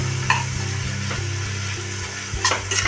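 Prawns sautéing in butter for butter garlic prawns, stirred in a pan: a steady sizzle with a few spoon scrapes and taps near the start and end, up close over a low hum.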